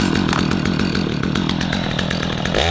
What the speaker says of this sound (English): When you're ready to start your saw, first thing you want to do is engage your brake